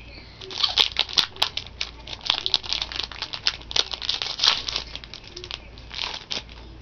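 A trading card pack wrapper being torn open, with close, crisp crinkling and crackling plastic in irregular bursts that continue for several seconds.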